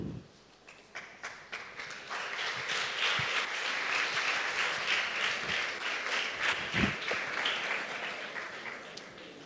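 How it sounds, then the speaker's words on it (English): An audience applauds at the close of a TED-Ed student talk. Dense, sustained clapping swells after a few scattered first claps and holds steady for several seconds, moderately loud and without speech. "A warm round of applause to Shimon for shedding light on the subtle art of not listening to yourself"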